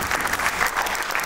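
Brief burst of audience applause as guests are welcomed with flowers at a Sikh arts and film festival, a dense, even clatter of many hands with no speech over it.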